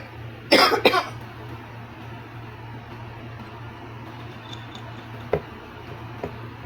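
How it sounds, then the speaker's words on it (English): Two quick coughs sound close by over a quiet room hum, followed by a couple of faint soft clicks. "No, I'm just coughing."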